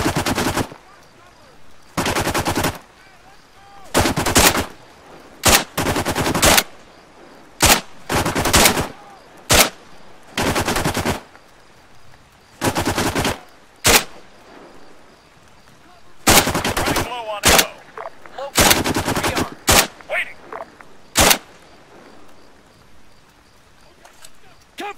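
Bursts of rifle and machine gun fire in Arma 3, loud sustained volleys broken by short pauses across the whole stretch, with soldiers shouting orders between and over the shooting.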